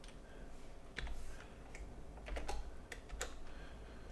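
Typing on a computer keyboard while working in Excel, quiet irregular key clicks in short bursts with a few louder taps, close and without talk.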